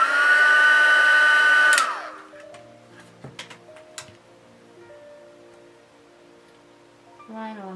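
An electric heat tool blows a loud, steady whir while heat-setting sponge-dabbed paint along the base of painted legs, then cuts off after about two seconds, leaving faint clicks and taps and a brief whir again near the end.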